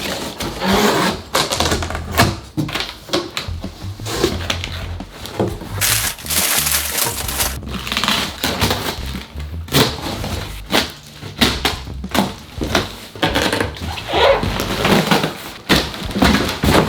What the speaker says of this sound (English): This is some packaging.